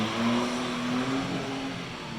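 Cars revving and spinning their tires in a high school parking lot on a Sunday afternoon, a steady mid-distance engine roar with a rising, whining tone.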